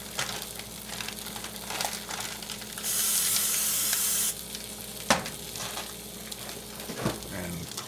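A short burst of cooking spray hisses over a breakfast sandwich in a hot pan, set against a low background sizzle and occasional clinks.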